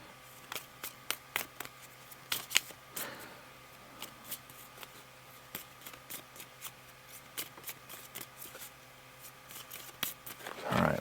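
A deck of cards is shuffled during a Legendary Encounters Matrix card game, with a series of quick crisp riffles and snaps spaced irregularly, close and fairly quiet.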